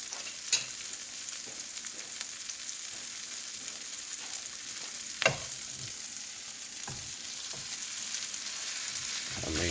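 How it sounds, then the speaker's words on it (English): Beef sizzles steadily in a hot pan for a Thai spicy basil stir-fry, with occasional sharp clinks and scrapes of stirring over a constant close frying hiss and no talking. "Now we're gonna add our beef."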